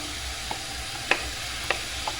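Shredded cabbage and peas fry in a pan as masala paste goes in, giving a quiet continuous sizzle with a few sharp clinks and scrapes of a spoon against the pan.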